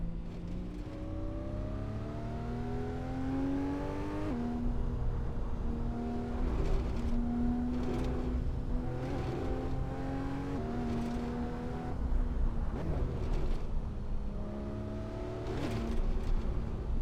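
Rally car in Assetto Corsa on the Macinaggio stage, its engine droning close and steady, climbing in pitch through repeated gear pulls with brief drops at shifts and occasional thumps and rattles.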